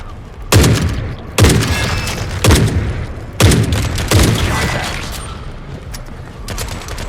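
Heavy .50 caliber gunfire in the video game The Forever Winter, five or six loud, booming shots spaced about a second apart, each with a long rumbling tail, up close.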